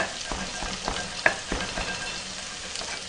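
Onion being stirred and fried in a pan for kimchi fried rice with ham, giving a steady close sizzle broken by several scraping stir strokes and one sharper clink, with no talk.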